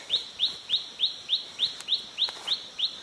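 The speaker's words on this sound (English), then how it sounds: "Hey, oh, I got birds on me." Small birds chirp close by in a steady series of about ten bright, evenly spaced tweets during an outdoor walk by the water in early January, with no talking over them.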